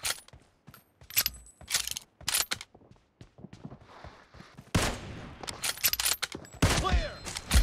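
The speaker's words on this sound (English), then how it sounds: "Reloading!" A weapon reload in PUBG plays as a series of sharp mechanical clicks and clacks, followed by louder rattling metallic bursts that may be gunfire, all fairly close and with no talk.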